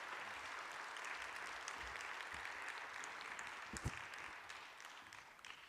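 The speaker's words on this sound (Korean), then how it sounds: "시작하면서 박수를 받기는 또 처음인 것 같습니다" A church congregation applauds steadily during a mission service, a dense wash of clapping from many hands at a moderate distance, continuing throughout.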